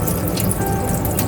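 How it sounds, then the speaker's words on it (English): Running water rinses old potting soil off the roots of a Nepenthes pitcher plant during repotting, a steady close splashing and trickling wash with drips, continuous for the whole moment with no talking. "Wash away the old soil with water."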